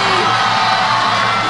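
A studio audience at a televised singing competition whoops, yells and cheers loudly and continuously as the singer is welcomed on stage.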